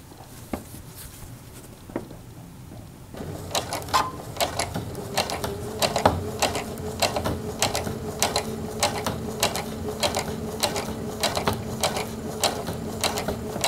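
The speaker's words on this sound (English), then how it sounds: "So I am just going to top stitch this down just because I think I will like it better" A sewing machine top stitches down the edge of a knit bodysuit, its rapid mechanical stitching pattering steadily and close up after a quiet start, with no talking over it.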